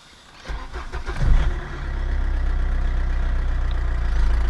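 An Opel Zafira 2.2 16v diesel engine cranks briefly and catches, then settles into a steady, close, even idle rumble that continues to the end.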